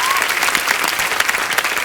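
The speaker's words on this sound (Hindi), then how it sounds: "जोरदार तालियां।" A studio audience on The Kapil Sharma Show breaks into dense, sustained applause, loud and even claps filling the room without pause.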